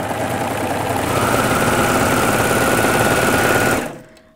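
Baby Lock Ovation overlock machine running steadily as it sews a T-shirt neckline, a close, loud mechanical whir with rapid stitching rhythm that holds for nearly four seconds before stopping.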